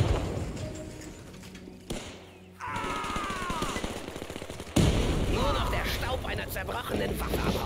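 Explosions and gunfire in the World War II strategy game Men of War 2, with bursts and blasts mixed with battle noise, the loudest hitting at about five seconds amid continuous chaotic combat sound.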